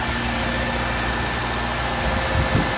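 A Subaru Outback's 2.5-litre boxer four-cylinder idles steadily up close, with a constant low rumble and no change in revs or voices throughout.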